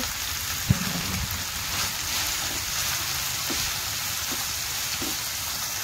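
A vegetable mixture for bread masala toast fries in a pan with a soft, even, rain-like sizzle. A sharp knock comes early, followed by a few light stirring taps, and there is no talking.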